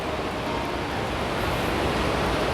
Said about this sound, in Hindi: देखिए पानी की आवाज़ साए साए करती हुई